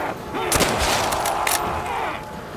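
Gunfire in Call of Duty: World at War Zombies comes as loud, close bursts of shots over a dense, continuous game soundscape, with a few especially sharp reports partway through.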